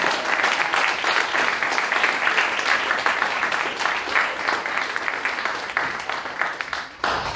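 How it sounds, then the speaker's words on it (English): An audience at an evening leadership program ceremony in Bermuda gives a sustained round of loud, dense applause, steady for several seconds before tapering off near the end. "Can we give another round of applause?"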